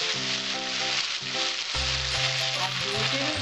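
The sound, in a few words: garlic and ginger paste frying with white cumin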